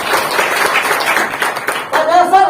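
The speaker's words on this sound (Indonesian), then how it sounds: "Kasih tepuk tangan." An audience at a leadership seminar applauds, a busy wash of many hands clapping at close range, with a voice speaking over the end of the applause.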